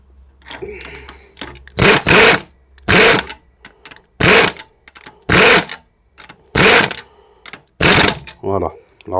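A ratchet wrench tightens the nut on a Renault Twingo rear shock absorber, giving a few short bursts of ratcheting spaced through the clip, loud and close, with someone speaking quietly between them.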